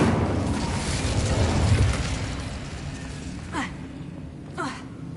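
The Incendio fire spell in the video game Hogwarts Legacy goes off in a broad whooshing burst of flame that fades away. Two short, sharp magical zips follow a little later.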